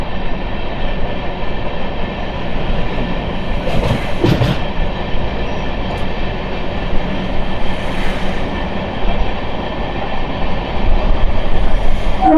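A local train bound for Chennai Central rolls past close by, a steady loud rumble with wheel clatter and a few brief screeches throughout, with no voices.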